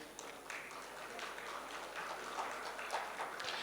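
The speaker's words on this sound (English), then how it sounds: "we put our hands together as we thank the speakers of the session" An audience at a microfinance conference session in India applauds the speakers with steady, fairly faint clapping that holds for several seconds.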